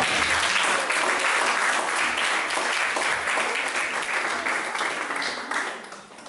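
Loud, dense applause from a congregation at a church service fills the whole stretch, steady and close, tapering slightly at the end.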